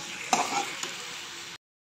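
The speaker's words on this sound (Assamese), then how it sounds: "এইখিনি মই ভাজিম" Pork sizzles in a hot pan with a steady frying hiss, broken by a couple of quick stirring scrapes, then cuts off abruptly into silence.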